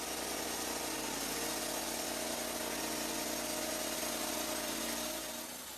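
A Lumber Pro sawmill engine runs with a loud, steady, unbroken mechanical drone and broad roar, easing off slightly at the very end.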